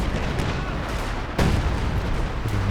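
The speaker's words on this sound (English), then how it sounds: "Major artillery drop down as well." An artillery barrage in Company of Heroes 2 rumbles as dense, steady battle noise, with one sharper, louder shell impact cutting through partway.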